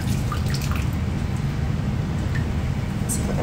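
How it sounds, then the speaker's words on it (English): Running water rinses shampoo out of clip-in hair extensions, a steady close wash of flowing water with a few small drips and splashes. "I'm gonna rinse it off to get any of that shampoo out"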